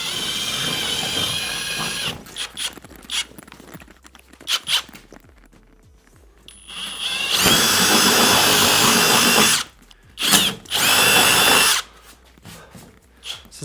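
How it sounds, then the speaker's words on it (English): A power drill bores holes in a thin panel for a vehicle fitted with 35-inch tires, in loud sustained bursts of whirring broken by pauses, with handling noises and footsteps between the runs. "so we'll drill some holes here"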